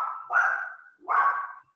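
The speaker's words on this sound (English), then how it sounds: "Apologies for the barking dog too." Two barks from a dog, the first rising out of a brief whine-like lead-in and the second a short pause later, each a sharp mid-pitched burst heard fairly close and clear with no talk over them.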